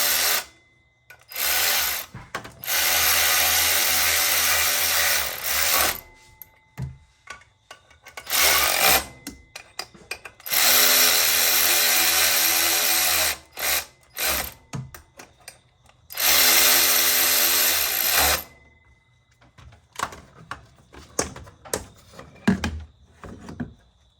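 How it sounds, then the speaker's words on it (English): Electric ratchet driving fasteners on the 350 engine of a 1984 C4 Corvette during a water pump job, several loud whirring bursts of a few seconds each, separated by pauses with clinks of tools. "that's got to be electric ratchet to do this, because we got no way of holding it."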